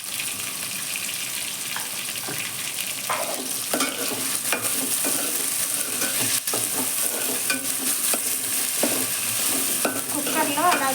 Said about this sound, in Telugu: ఒక స్టేజ్లోకి వచ్చాక అప్పుడు మనం మెంతుకూర వేస్తాం. ఇలా ఫ్రై చేసుకోవాలి.